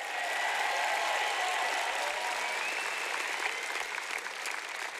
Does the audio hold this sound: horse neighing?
no